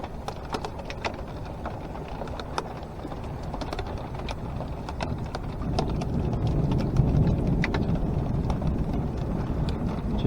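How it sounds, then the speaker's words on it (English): Rain falling around a sailing boat off Menorca on a warm day, a steady soft patter with scattered sharper drops and a low rumble building midway, no talk. "Here's the rain."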